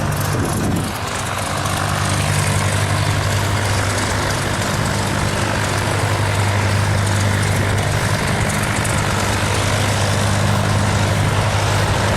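A propeller airplane at a museum airfield drones loudly and steadily at close range, its engine roar and propeller hum filling the whole stretch without pause.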